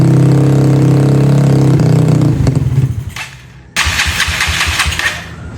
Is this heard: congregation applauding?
no